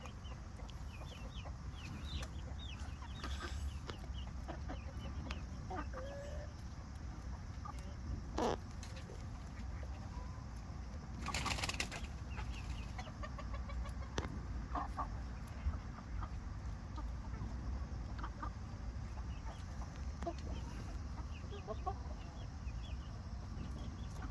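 Brahma chickens clucking softly and steadily outdoors on an afternoon walk, with scattered nearby clucks and scratching over a low, constant background.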